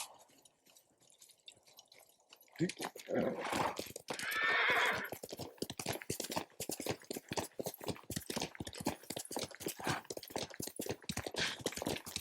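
A horse whinnies loudly in a short burst in the video game Ghost of Tsushima, preceded and followed by a steady run of clopping hooves and scattered clicks.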